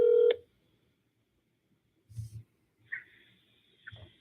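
Telephone dialing tones during a call to a property seller: a long steady tone cut off, then after a pause a few short beeps and soft clicks, close and clean.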